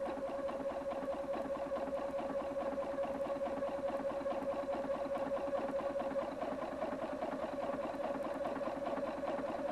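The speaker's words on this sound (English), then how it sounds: "At the end of the first side, touch reverse and continue sewing." Husqvarna Viking Platinum 770 sewing machine stitching a buttonhole, a steady continuous motor hum with rapid needle clatter running throughout, fairly close and even in level, with no speech.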